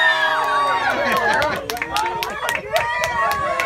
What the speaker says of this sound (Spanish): ¡Que se escuche fuerte el aplauso!